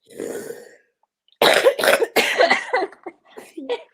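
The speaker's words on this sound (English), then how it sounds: "I'm like, well, yeah, I recognize that cough" A person coughs several times in a quick, rough burst up close, after a short breathy throat sound.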